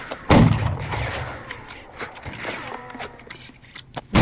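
Musket volleys ring out from a 44th Foot reenactment line at a historical event. One loud, close blast is followed by sparse distant reports and faint background noise, then another sharp shot at the end.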